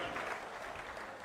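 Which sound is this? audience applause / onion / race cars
audience applause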